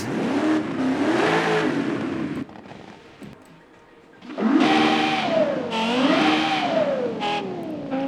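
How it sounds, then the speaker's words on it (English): A racing V8 engine from a Lexus LFA, fitted to a Toyota Land Cruiser AT37 in the racing game Forza Horizon 5, revs high and loud, drops briefly to a low idle, then climbs and swoops through more hard revs. "I think that is the Lexus LFA engine"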